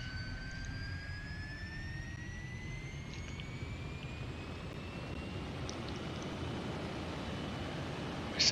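A T-33 jet engine in a flight simulator game spools up toward 68% throttle during engine warm-up, a steady rising whine over a broad rumble with no talk.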